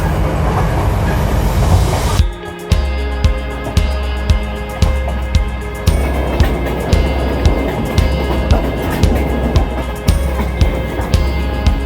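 A train rolls steadily through a valley near Phan Rang, Vietnam, with a rhythmic clickety-clack of wheels over rail joints repeating about once per second over a loud rumble.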